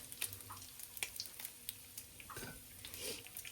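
Diced red potatoes frying in a pan and turned with chopsticks: a soft, low sizzle with light clicks and taps, faint and close.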